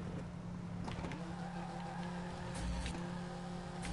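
FlatOut game car, a V10 Beetle driving on ice, a steady droning engine hum with faint skid and squeal textures, fairly quiet and continuous throughout with no talk.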